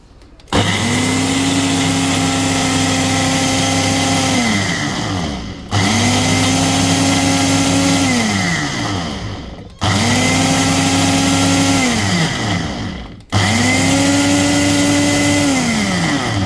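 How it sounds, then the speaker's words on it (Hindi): An electric kitchen blender grinds ginger garlic paste with oil, running loud and steady in four long bursts, its whine dipping between pulses, with no talk. "अब मैं इसको ब्लेंड करती हूँ"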